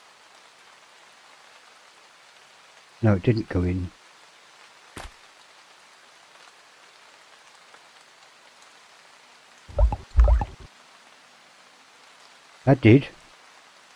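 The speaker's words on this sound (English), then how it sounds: "I can't hear for the rain." Rain falls steadily at a junkyard as a faint, even hiss, broken by a few short bursts of someone talking.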